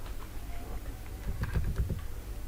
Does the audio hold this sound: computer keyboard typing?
yes